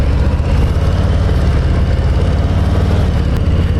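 A Harley-Davidson 2020 Low Rider S with the Milwaukee-Eight 114 V-twin runs steadily and close, a loud, deep, continuous rumble with no talk over it.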